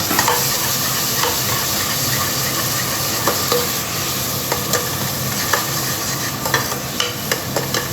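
Onion, ginger and garlic paste cooks in a pan with a loud, dense, continuous sizzle and hiss, dotted with small pops and spoon scrapes, and no one speaks.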